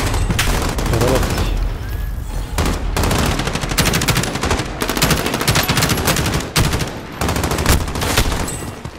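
Rapid bursts of automatic gunfire in the shooter game Call of Duty Warzone, loud and close, coming in repeated sharp volleys with brief gaps between them.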